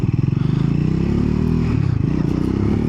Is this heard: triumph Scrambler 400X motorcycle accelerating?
yes